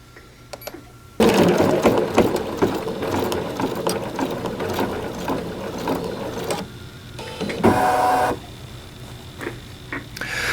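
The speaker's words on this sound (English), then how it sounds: "as I hit the start button, and off we go" A Bernina B790 Pro sewing machine starts stitching with a sudden rapid mechanical clatter that runs steadily for several seconds, pauses, bursts briefly again, then falls to quieter clicks and whirring, close.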